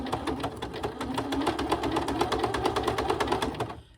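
A sewing machine stitches lace onto a fabric junk journal cover, running in a fast, even rhythmic chatter close by before stopping abruptly.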